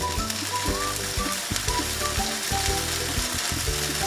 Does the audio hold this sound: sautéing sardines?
yes